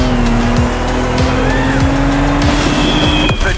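Jeep Gladiator racing off-road in The Crew Motorfest, its engine droning loud and close with a steady high whine, punctuated by repeated tire squeals and skids.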